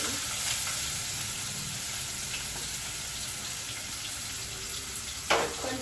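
Onions fry with cumin in a pan, giving a steady close hiss and crackle with a few faint stirring scrapes and a brief sharper clatter near the end.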